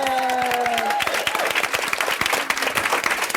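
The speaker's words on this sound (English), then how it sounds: "I'd like to get a round of applause for Sean and Craig for the work they do for producing." A live podcast audience applauds during a Disney fan panel, a dense steady wash of clapping that starts under a fading tone and carries on to the end.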